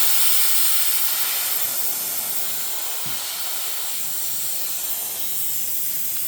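Air rushes out of the bleed valve of a Hill EVO 3-10 airgun compressor in one loud, continuous hiss, close and sustained for several seconds, easing slightly in level, with no talking.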